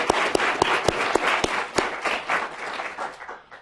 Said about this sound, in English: Definitely a round of applause.